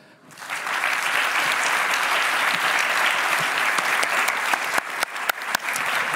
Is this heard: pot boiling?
no